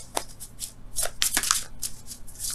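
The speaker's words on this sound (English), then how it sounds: "Let me get another card for that." Tarot cards are shuffled up close in quick, crisp riffling bursts, several soft flicks and slaps spread unevenly across a quiet room with no talking.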